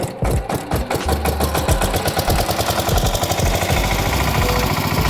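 A small farm vehicle engine chugs loudly and steadily in a paddy rice nursery, its rapid rhythmic firing continuous and close throughout with no talk.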